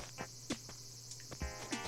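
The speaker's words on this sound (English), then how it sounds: "Large brown cicada" A large brown cicada from the Animal Crossing video game drones in a steady, quiet insect hum, with soft taps and footsteps scattered over it.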